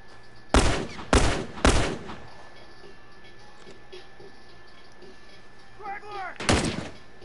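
Three sharp, loud gunshots in quick succession during The Last of Us multiplayer, followed by a quiet pause with a few faint sounds, then a single further shot near the end.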